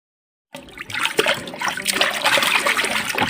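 Continuous splashing and sloshing water from someone swimming in a river on a summer vacation in an animated scene, steady and close for about three seconds after a brief silence, with no talking.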